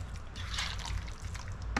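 Pork belly pieces are stirred with a mustard binder, giving a steady wet squelching and sloshing that runs the whole moment, with a brief sharper click at the end.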